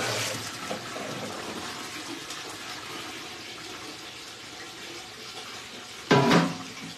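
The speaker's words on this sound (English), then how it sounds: "I need some hot water going there." Hot water runs from a tap in a steady hiss during household cleaning, ending with a short louder splash or clunk near the end.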